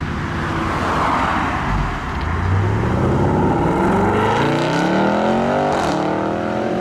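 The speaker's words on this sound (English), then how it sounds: "Put my foot down, sounds lively" A V8 car accelerates hard, its loud, close engine note climbing steadily in pitch through a continuous pull with no pauses or voices.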